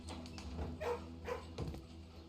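A puppy barking in the Blue Prince video game, a few short yips and barks over a steady low game background hum, fairly faint.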